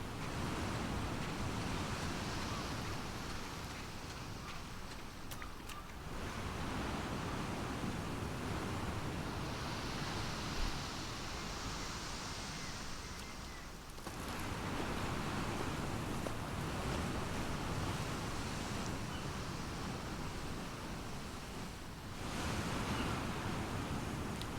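Ocean waves wash against the coast in The Last of Us Part II, a broad, steady surf roar with breezy noise that rises and falls in long surges over about twenty-five seconds, no voices.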